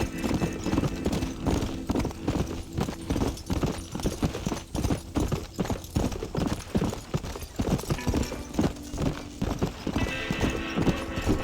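Steady clip-clop of horse hooves at a fast ridden pace in the Western game Red Dead Redemption, continuous and fairly close, with faint background music and no talk.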